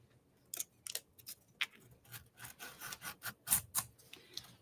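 An X-Acto knife is drawn along the edge of chipboard to trim tissue paper, making a series of faint, close scraping and rasping strokes with short pauses between them.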